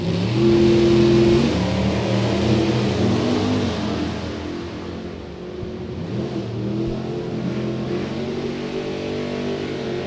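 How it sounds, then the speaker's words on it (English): A 1967 Camaro and a 1988 Camaro launching side by side at a drag race, loud engines revving hard and roaring off the line, then fading slightly as they pull away. "Carta 67 Camaro in the Budweiser lane. Warby in the Jegs.com lane. In the 88 Camaro"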